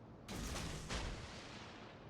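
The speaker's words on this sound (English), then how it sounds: "here for the start I'm just shooting some torpedoes" A destroyer launching torpedoes in World of Warships, Fubuki-class, two heavy booming launches in quick succession followed by a lingering rumble, with no talk.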